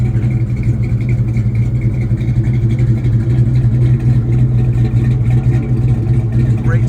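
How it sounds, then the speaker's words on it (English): A 1970 Chevrolet Chevelle's engine idles steadily and loud throughout, a low continuous rumble with no change in pace, as a person talks close by. "Great sounding car."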